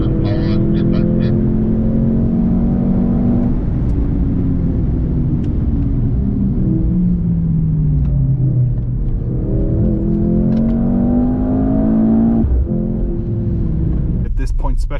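A 2023 Mercedes C63 AMG engine pulling through rising and falling harmonic sweeps as it accelerates on a racetrack at night, steady and loud inside the cabin, with voices talking over it.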